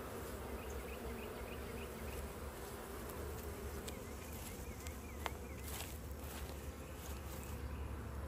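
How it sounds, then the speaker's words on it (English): Honeybees buzz steadily nearby at a hive, a continuous hum with individual insects drifting closer and away, no talking. "Check out these bees here."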